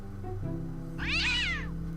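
In Day of the Tentacle Remastered, a cat gives a single clear, drawn-out meow of about a second over a low steady background hum, fairly close and moderate in volume.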